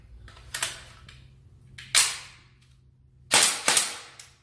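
A toy revolver firing BB shots: four sharp cap-gun-like cracks, each with a short fading tail, sounding in two pairs spaced across the moment, close and fairly loud, with no talking.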